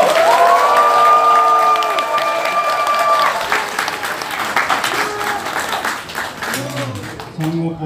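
Loud crowd applause and cheering greet a candidate for Gyeyang-gu district head at the opening of an election campaign office, steady and dense throughout, with shouts, chatter and an amplified voice over the clapping.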